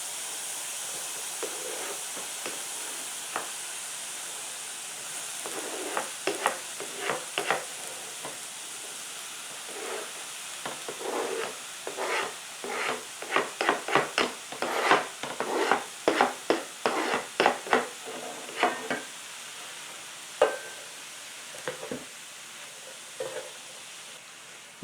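Onions and tomatoes sizzle softly in a pan under a constant frying hiss, while a utensil scrapes and stirs in bursts of clustered clicks, busiest in the middle and tapering off.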